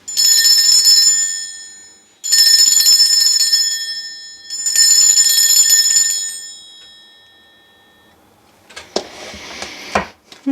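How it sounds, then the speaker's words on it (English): A bell rung three times to cleanse a space, each strike loud and close with a bright, sustained ring that fades, followed by faint handling knocks. "I am about to ring this bell. This is just to cleanse the space around us."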